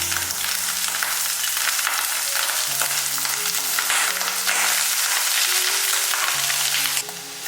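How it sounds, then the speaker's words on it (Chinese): Sour pickled cabbage stir-fries in oil in a clay pot, a dense continuous sizzle with scraping stirs, loud and close throughout, easing slightly at the end. "接着加入酸白菜，继续翻炒。"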